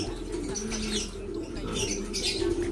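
Soft pigeon coos mix with occasional wing flaps and light chirps, close by and fairly quiet, with no talking.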